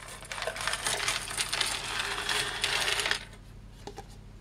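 Small metal keyboard springs from a ZX Spectrum +2a clinking and rattling into a pot, a dense continuous jingle for about three seconds, then a couple of faint taps over a low hum.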